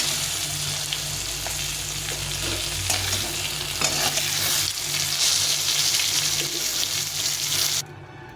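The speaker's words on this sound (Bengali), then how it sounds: "মাছটা ভাজা হয়ে গেছে, ভেজে নেবো, একটু লাল লাল করে ভেজে নিয়েছি।" Lata fish frying in oil in a pan, a dense, continuous loud sizzle and crackle close up with occasional utensil clinks, cutting off sharply near the end, with no talk.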